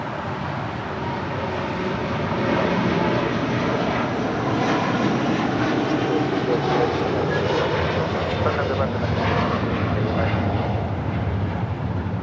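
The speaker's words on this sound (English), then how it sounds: "This is Latam Airlines 603 taking off to Santiago, Chile on a 787-9 Dreamliner." A Latam Boeing 787-9 Dreamliner takes off from LAX runway 25 right bound for Santiago, Chile, its engines a broad, steady roar that swells after the first seconds and holds, heard from a distance.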